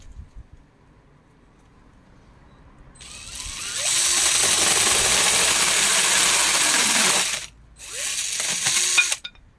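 A drill fitted with a mini chainsaw attachment cutting thin, soft pallet wood, starting quietly, then a loud, harsh, buzzing rasp for several seconds, a brief stop, and a second short burst of cutting.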